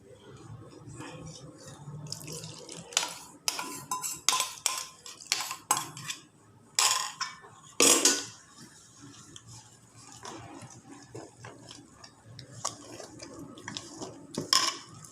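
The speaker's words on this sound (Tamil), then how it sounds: "இப்போ தேங்காய் பால் ஊற்றி கரைப்போம்." Coconut milk is poured over flour in a large bowl and stirred, giving a run of sharp clinks and scrapes of a utensil against the bowl along with a few wet splashes, close and fairly loud.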